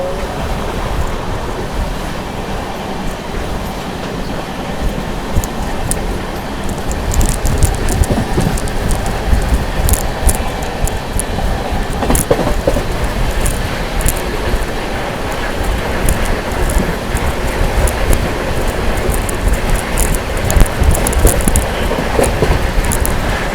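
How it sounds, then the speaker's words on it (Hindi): The 12621 Tamil Nadu Superfast Express running at about 100 km/h, heard from inside a 2AC coach as a constant loud rumble and roar with rattling clacks scattered throughout. "फिलहाल अपनी तमिलनाडु एक्सप्रेस 100 के आसपास जो है स्पीड मेंटेन करके चल रही है"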